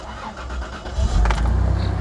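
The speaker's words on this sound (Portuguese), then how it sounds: "Deixa eu dar partida nela aqui," The gasoline V6 engine of a 2001 Toyota SW4 cranks briefly and catches, settling into a rumbling idle with a throaty low hum close by.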